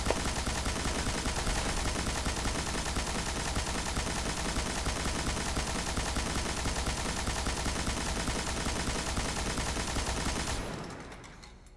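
Sustained, rapid automatic gunfire from the Thunderlord machine gun in the shooter game Destiny, a dense unbroken stream of loud shots for about ten seconds before cutting off abruptly.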